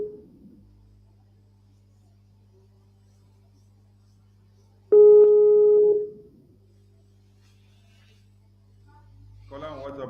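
An outgoing WhatsApp call rings once with a steady electronic tone for about a second, set against a low constant hum, with a faint voice-like burst near the end.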